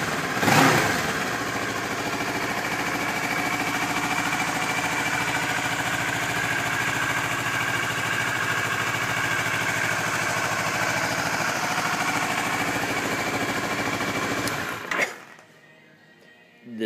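A 2011 Kawasaki Ninja 650 motorcycle engine idles steadily and fairly close for about fifteen seconds, a smooth continuous hum that cuts off abruptly near the end.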